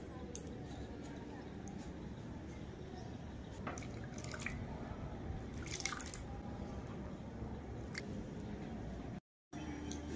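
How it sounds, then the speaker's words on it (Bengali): Faint liquid drips and trickles as beet paste juice strains through a kitchen strainer, with soft irregular drops over a quiet background. "এবার একটি ছাঁকনির সাহায্যে ছেঁকে রসটা আলাদা করে নেব।"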